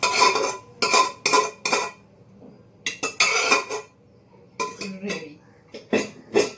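Rice is added to cooked dal in a pot, giving a series of loud, close clattering scrapes and clinks of a metal utensil against the pot, separated by brief quiet gaps.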